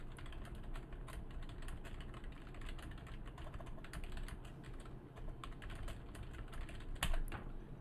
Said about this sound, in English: I can do it as long as I'm typing when I'm talking